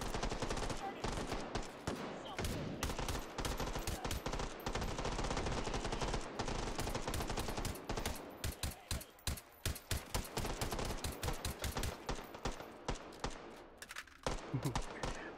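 Rapid automatic gunfire rattles almost continuously in the VR game Hot Dogs, Horseshoes & Hand Grenades, loud and close, breaking into shorter bursts and single shots toward the end.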